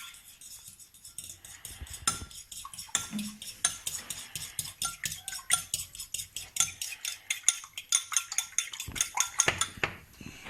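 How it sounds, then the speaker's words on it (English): A fork whisking omelette ingredients with salt and pepper in a bowl, producing quick rhythmic scraping clinks that begin sparse and speed up into a steady close-up beat, with no voices. "I take the fork and I mix all the materials"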